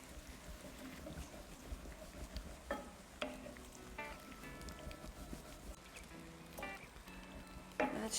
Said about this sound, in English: I need to keep stirring to avoid any lumps.